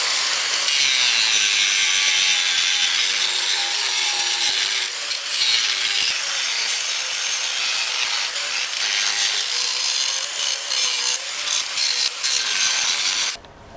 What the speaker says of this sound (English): I'm just kind of cutting into it with my grinder a little bit more